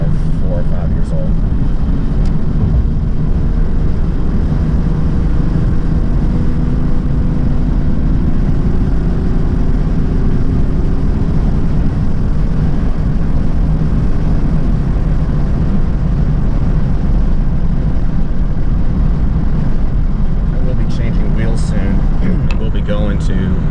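A 1994 Mercedes S350 diesel fitted with a new turbo cruises at steady highway speed, its broad engine drone, road roar and tire noise continuous and loud throughout, with a person talking over the sound.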